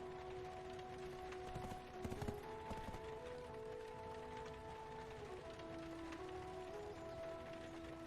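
Steady horse hoofbeats clip-clop along in the game Black Desert Online under a layer of sustained musical tones, with a brief louder burst partway through.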